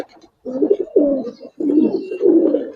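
Giribaz pigeons on a farm coo close by in a run of soft, throaty, rolling phrases, four distinct bursts with brief pauses between them.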